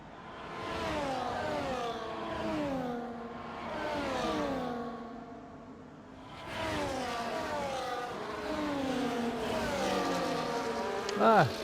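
Racing cars in an Imola sim race, one overtaking another, with layered engine whines sweeping up and down in pitch through gear changes, briefly dipping near the middle, then returning, under a commentator talking throughout.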